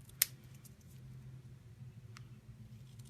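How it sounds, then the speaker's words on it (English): A single crisp snip while paper craft squares are trimmed for handmade graduation cards in a craft room. A low, steady room hum follows, with a faint tick a couple of seconds later. "I'm going to just trim this up so it matches."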